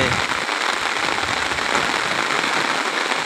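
Heavy rain pours down onto a flowing river in a dense, constant roar of drops striking water, close and loud with no pauses.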